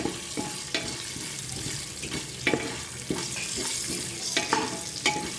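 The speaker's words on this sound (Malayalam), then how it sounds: "പതുക്കെ ഇതുപോലെ ഇളക്കി കൊടുക്കാം." Popcorn kernels rattle and scrape as they are stirred in a pot, with repeated short clinks and strokes over a soft background sizzle, close and unhurried, with no voices.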